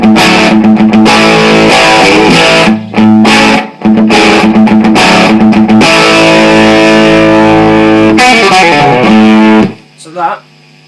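Loud, heavily distorted electric guitar chugging a riff, with dense sustained chords, brief stops near 3 and 4 seconds, then a ringing end and a short faint squeal.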